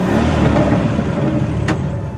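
A car engine rumbling close by as it pulls up and settles to a stop outside a manor, loud at first and easing off.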